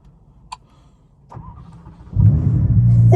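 A 2022 Ferrari Roma starting up from inside the car: a couple of quiet clicks and the starter whir, then the engine catches with a sudden loud roar that settles into a heavy, throaty idle.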